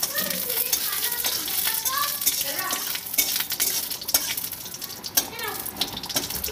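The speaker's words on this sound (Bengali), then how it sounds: "5 ফোড়ন আর শুকনো লঙ্কা ফোড়নটা আমি আলাদা কড়াইয়ে ভেজে নিচ্ছি।" Panch phoron and dried red chillies fry in a separate kadai in a village kitchen: a steady sizzle with clinks of stirring and utensils. Faint background tones run underneath, and no one speaks.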